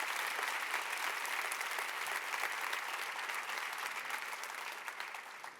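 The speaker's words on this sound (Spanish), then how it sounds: "Yo creo que era un buen momento para darle un aplauso a Jesús." Church congregation applauding during a sermon, a dense, sustained wash of clapping that fades slightly toward the end.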